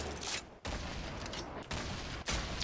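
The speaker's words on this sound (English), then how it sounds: "Which one else is taking shots at us?" Rapid bursts of automatic gunfire from a Fortnite battle royale match, with a thermal-scoped assault rifle in play, roaring in dense, loud volleys broken by two brief pauses.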